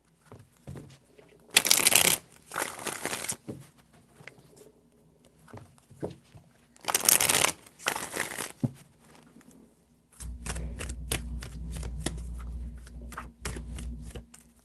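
Tarot cards shuffled by hand in several separate bouts, crisp riffling bursts separated by quieter gaps, ending in a rapid run of tapping card flicks over a low hum, close to the listener.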